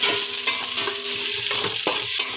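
Garlic and onion sautéing in a casserole over low heat, a steady close frying hiss with a few utensil scrapes and knocks as they are stirred.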